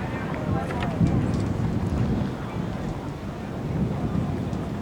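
Gusting wind buffets the microphone at an Australian football ground during a 2000 Port Melbourne versus Collingwood match, a continuous rough, roaring rumble with faint muffled voices underneath.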